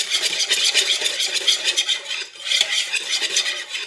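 Rapid clinking and scraping of a utensil beating a wet eggless cake batter of sugar, dahi and oil in a bowl, a close, steady rhythmic whisking with no voices.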